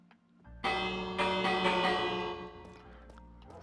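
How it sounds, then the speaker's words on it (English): A bell rung in a Minecraft-like video game: one loud struck tone with a bright shimmering ring that swells briefly then decays slowly over a few seconds, heard alone. "Ring the bell."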